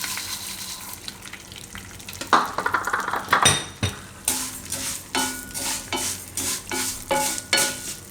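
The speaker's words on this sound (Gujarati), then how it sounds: "આ વરમીસલી સેવ છે એને શેકી લઉં" Vermicelli strands sizzle and crackle in hot ghee in a pan while a utensil stirs and scrapes, with repeated rhythmic clinks against the metal.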